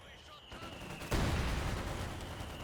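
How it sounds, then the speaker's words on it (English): In a Company of Heroes 2 battle, a sudden heavy mortar impact erupts after a quieter stretch of distant fire, then sustained rumbling gunfire and blasts continue loudly. "With the mortar rounds coming down all over the place"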